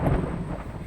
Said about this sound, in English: You want a severe storm? Here. How's this for a severe storm,